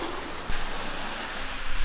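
Waves washing on Inage beach in Chiba in winter, a broad continuous wash of surf with wind noise, fairly loud, swelling briefly near the start and again at the end, with no talking.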